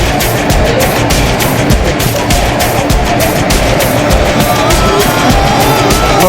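A car drives off, giving a loud, steady engine and road roar close up that fills the whole stretch with little change.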